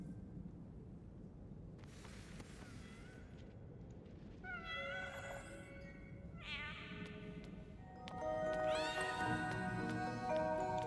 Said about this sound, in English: I feel like that last meow was a little more of a yowl